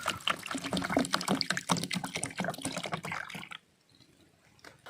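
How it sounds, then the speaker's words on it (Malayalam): Vinegar, about a litre, poured into a container to soak rusty old tools for restoration; a dense, splashing liquid pour runs steadily for three and a half seconds, close and fairly loud, then cuts off into near silence. "ഒരു പാത്രത്തിനകത്തേക്ക് ഏകദേശം 1 ലിറ്ററോളം വിനെഗർ നമ്മൾ ഇതുപോലെ ഒഴിച്ചു വെക്കണം"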